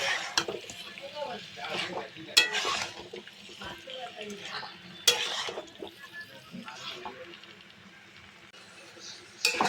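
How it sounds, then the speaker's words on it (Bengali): Mutton with whole green chillies is stir-fried in a pan, with intermittent scraping and stirring strokes over a soft sizzle while a person talks. "মাংস কালো না হওয়া পর্যন্ত পুরো কষতে থাকবো।"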